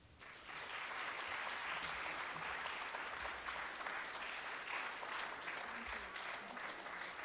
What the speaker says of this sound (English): could we have another round of applause for these great?